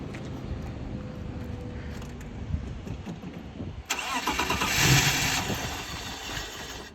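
A BMW E30 with a 3.0L engine and full stainless exhaust cranks briefly, then fires up and settles into a loud, rough idle that swells and holds. Heard close in a workshop, with no talking.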